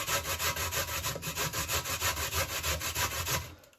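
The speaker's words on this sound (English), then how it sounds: "grating my sweet potato" Sweet potato grated by hand against a grater, a steady run of rhythmic rasping strokes, close and fairly loud, roughly four per second, stopping abruptly near the end.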